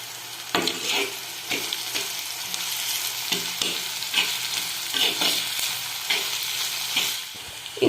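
Chopped garlic fries in oil alongside shallots, giving a steady sizzle broken by repeated clinks and scrapes of a spoon, with some watery splashing, close by and without talk.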